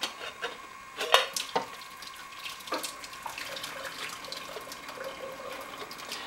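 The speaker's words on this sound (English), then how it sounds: "You'll want to drain all your water without having to put it through a sieve" Hot water pours out of a pot of boiled potatoes into a sink, a running, splashing stream broken by a few sharp knocks of the pot against metal.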